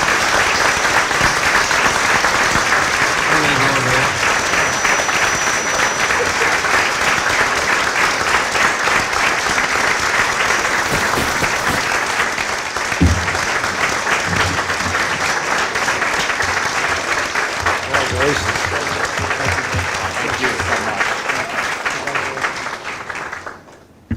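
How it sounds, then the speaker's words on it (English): Sustained audience applause fills a school board meeting for about twenty-four seconds, steady and dense before fading at the very end, with faint murmurs under it. "please join me in a round of applause"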